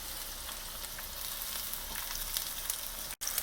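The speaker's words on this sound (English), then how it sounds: "All done frying." Eggplant slices fry in hot oil with a loud, steady sizzle and crackle throughout, a brief dropout near the end.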